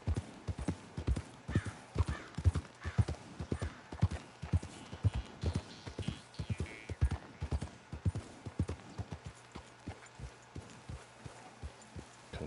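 Horse hooves clip-clop in a steady, loud rhythm through a Red Dead Redemption 2 ride, with faint background ambience and no talking over the steps.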